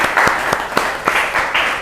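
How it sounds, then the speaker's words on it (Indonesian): Students in a university class clap for two classmates, a loud burst of group applause with distinct overlapping claps and a few voices mixed in over less than two seconds. "Tepuk tangan untuk Fawas dan Maharani."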